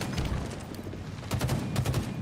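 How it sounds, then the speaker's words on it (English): Rapid long-range gunfire in a Halo esports match, a crackling fusillade of shots that grows louder and sharper in the second half, with no talk over it. "Long range shots going in for Tapping Buttons."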